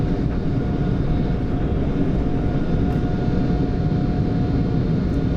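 Boeing 747-8 jet engines roar loudly and steadily as the heavily loaded airliner climbs out after takeoff, a dense continuous rumble heard from inside the cockpit.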